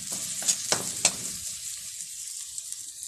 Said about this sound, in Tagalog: Ilagay na po natin ang sibuyas. Sibuyas guys ginayat ng maliliit.